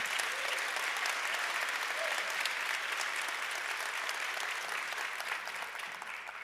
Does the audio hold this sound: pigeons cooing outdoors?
no